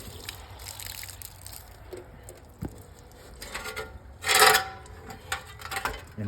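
An arcade monitor, tilted up on end, is rinsed with water: soft trickling and sloshing throughout, with one louder gushing splash near the end and light rubbing sounds.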